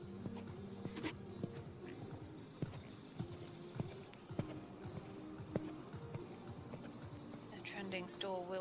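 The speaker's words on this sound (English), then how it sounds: "keep the horse settled going into the canter transition" Horse hooves clip-clopping in a steady rhythm during a dressage test at an eventing competition, moderately near, with a commentator talking over the hoofbeats throughout.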